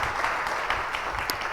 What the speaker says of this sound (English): Please give an applause to Scott and Pepper.